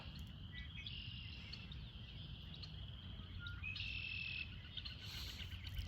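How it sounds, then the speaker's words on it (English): Birds chirp and call outdoors in nature, with a steady insect or cricket drone underneath; a woodpecker is present though its tapping is not distinct, and bright tonal chirps come in short bursts over constant background noise. "Woodpecker."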